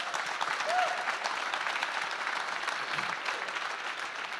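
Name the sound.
audience applause at live summit in theatre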